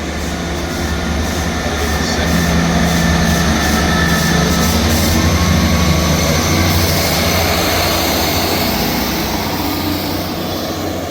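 A ScotRail Class 158 diesel multiple unit pulls away from Dalmeny station, a steady loud engine drone and rolling rumble holding throughout, rising slightly in intensity midway, with no talking.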